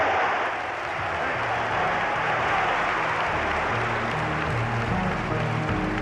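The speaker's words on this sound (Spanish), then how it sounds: "Lo aplauden a Franco" A large crowd applauds Franco in old historical footage, a steady wash of distant clapping lasting several seconds under a low, humming background from the worn recording.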